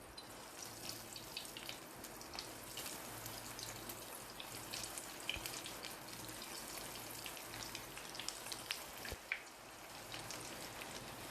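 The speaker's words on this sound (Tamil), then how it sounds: "இப்போது எண்ணெய் சூடாக இருக்குது. ஒன்று ஒன்றா போட்டு ஃப்ரை பண்ணி எடுத்துடலாம்" Potato lollipops deep-frying in hot oil give a steady, faint crackling sizzle with scattered small pops, continuous throughout with no voices.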